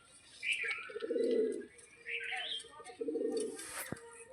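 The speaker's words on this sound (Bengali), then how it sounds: "এটি লালজিরিয়া টাইপের পায়রা বন্ধুরা।" A Lal Jiria type pigeon coos close by in three low, throaty phrases, each with a short rising chirp, separated by brief pauses.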